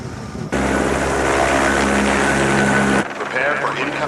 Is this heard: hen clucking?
no